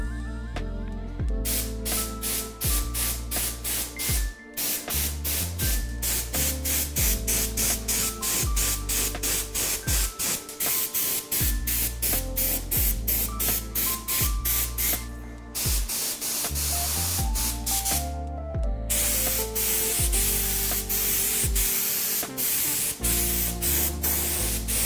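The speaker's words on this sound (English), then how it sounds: "Just put the orange in and continue spraying." A spray gun hisses loudly and continuously in long bursts, spraying orange candy paint onto a carbon bike, with short pauses between passes and a pulsing mechanical rhythm underneath.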